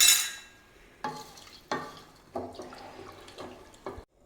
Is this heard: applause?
no